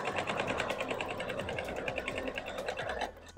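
A sewing machine runs steadily through the side seam of a flowing wrap trouser, its rapid even stitching loud and continuous before easing off near the end.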